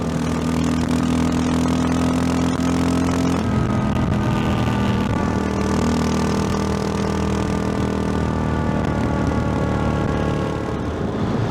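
A Yamaha XT600Z Ténéré motorcycle engine pulls steadily at highway speed, a loud continuous drone with wind roar and a slight shift in pitch partway through, heard from the rider's position.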